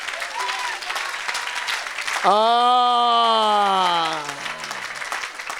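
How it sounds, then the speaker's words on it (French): Church congregation applauding and cheering at an evangelistic service, a dense wash of clapping throughout. A loud, sustained shout rises over the clapping midway and holds for about two seconds before fading back under the applause. "Est-ce qu'on peut acclamer Jésus-Christ?"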